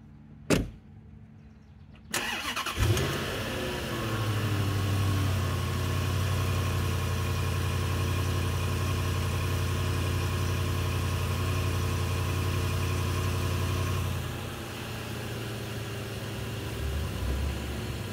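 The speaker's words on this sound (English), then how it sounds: "we'll give it a cold start." A 2011 Rover with about 9,000 miles cold-starts after a click and a short cranking burst, catches and settles into a steady, close, even idle hum that continues with a slight drop in level near the end, with no talking.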